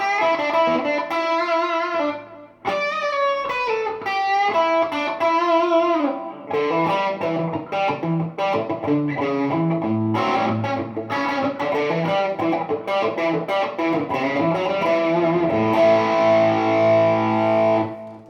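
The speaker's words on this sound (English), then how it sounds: "this is what it sounds like with a distortion" Electric guitar with raw vintage humbucker pickups, Gibson-style, played through distortion: sustained driven chords and riffs ring out loud and continuous for the whole stretch, with no talking.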